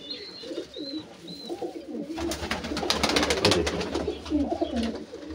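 Pigeons in a rooftop loft coo softly in short repeated calls, then a louder, busier stretch of fluttering and overlapping cooing fills the middle before easing off.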